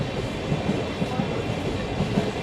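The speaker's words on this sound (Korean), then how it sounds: "건널목 기차 지나가는 모습" A train rolls through a level crossing in Kyoto in summer, making a steady, loud rumble with a faint rhythmic clatter of wheels, close by and with no voices.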